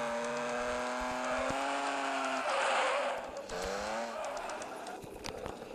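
A fast car in a racing video game roars with a sustained, rising and falling engine whine, shifting gears and squealing tires near and loud throughout.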